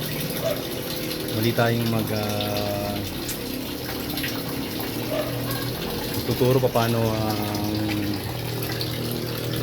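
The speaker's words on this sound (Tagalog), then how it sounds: "Ito ngayon ay nagde-drain ako ngayon ng tubig." Water draining from a tilapia fish pond on a third-floor rooftop, a steady gushing flow running throughout while someone talks over it.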